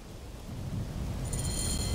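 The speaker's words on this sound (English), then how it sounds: "Sandstorm coming." Steady roaring wind of a sandstorm in Assassin's Creed Origins, a continuous low rumbling gust with a faint high keening tone rising in the second half.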